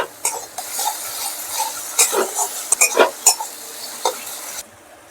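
A spatula scrapes and stirs ginger, cumin and chili paste in a pan with a soft sizzle underneath, in irregular bursts of clattering strokes at close range.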